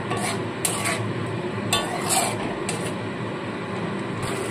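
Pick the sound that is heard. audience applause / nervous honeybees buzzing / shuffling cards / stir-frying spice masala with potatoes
stir-frying spice masala with potatoes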